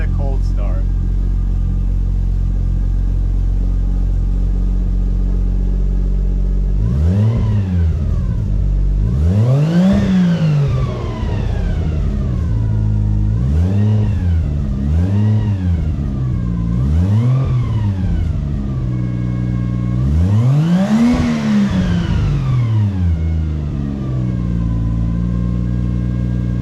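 A turbocharged Lexus IS200 with a Japspeed exhaust idles roughly on a cold start, then is revved repeatedly in short bursts, each rev climbing and dropping, with a louder pair of revs near the end.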